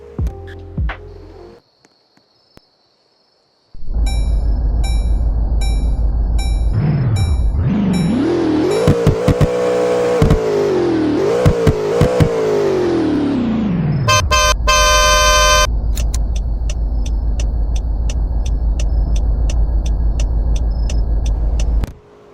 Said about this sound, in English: the Tormenta interestingly has the same engine sounds as the fictional Agner that's currently in game